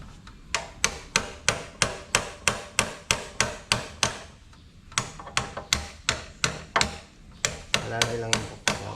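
Light hammer blows strike a seized, worn disc brake in quick regular series, sharp close metallic knocks with a short break midway, and a voice is briefly heard near the end.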